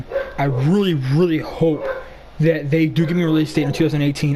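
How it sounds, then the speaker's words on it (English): Pet dogs barking and yipping nearby indoors, repeated excited bow-wows in quick bursts, mixed with and partly under a person talking. "Sorry about my dogs."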